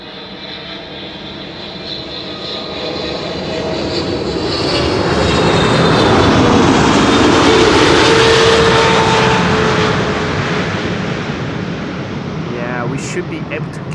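Airliner coming in to land on Runway 06, the Kaagbaan, at Amsterdam Schiphol: a loud, broad jet-engine roar that swells as it passes close overhead, then slowly fades with a faint whine, no talk.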